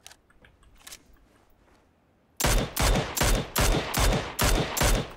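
Rapid bursts of automatic gunfire in the battle royale shooter PUBG, about seven loud evenly spaced volleys following a quieter stretch with faint distant shots.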